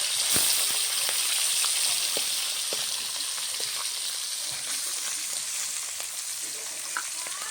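Small hilsa fish fry in hot mustard oil in a kadai, giving a steady sizzling hiss with scattered pops and crackles that gradually ease off.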